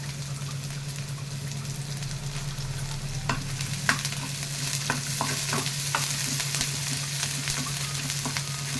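Ginger, garlic, onion pieces and green chillies frying in oil make a steady close sizzle over a constant low hum, with repeated scraping stirs and light clicks of a spoon in the pan.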